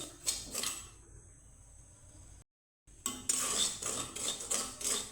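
Dry salt being roasted in a hot pan until it browns and turns powdery, with scraping and clinking stirring strokes in bursts, a brief silent gap in the middle.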